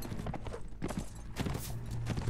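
Horses galloping in the Mount & Blade video game, a quick irregular clatter of hoofbeats heard amid battle noise, moderately loud and continuous.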